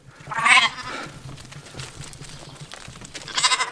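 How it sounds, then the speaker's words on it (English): Pet lambs bleat on a farm, one loud, close cry at the start and another at the end, with quieter shuffling and faint bleats between. "if everybody's wondering what all the bars and mahs is, well, I live on a farm and these are our lovely pet lambs"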